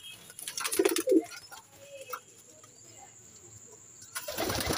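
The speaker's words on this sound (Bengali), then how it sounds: "আর এই যে ম্যাড্রাস পায়রা।" Madras pigeons in a pigeon loft give a few soft, throaty coos near the start, with faint wing rustles and quiet background noise afterward.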